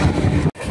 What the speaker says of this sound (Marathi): Konkan रेल्वेमधून Mumbai to Goa highway